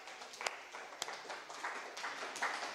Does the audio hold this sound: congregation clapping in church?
yes